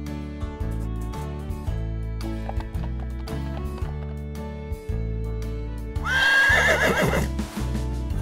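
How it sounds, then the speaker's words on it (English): A horse lets out a loud, shaky neigh over about a second and a half, starting after several seconds of upbeat background music that carries on beneath it. "Horse."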